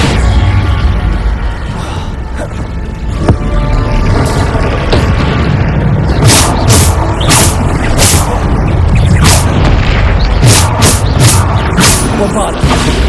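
Bombarda spell blasts from Hogwarts Legacy go off in a rapid run of loud booms and thumps, with repeated sharp bursts crowding the later half over steady game noise.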